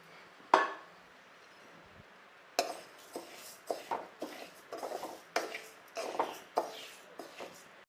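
A utensil stirs moong dal frying in a hot kadai, giving faint, uneven metallic clinks and scrapes in a quiet kitchen, with one sharper knock near the start.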